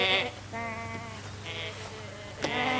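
A sheep bleats repeatedly, with wavering, nasal calls close by over a low background hum.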